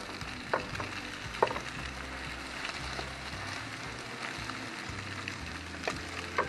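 An emu egg fries in a pan, giving a steady, close, soft sizzle and crackle with a few faint clicks and scrapes scattered through it, and no talking.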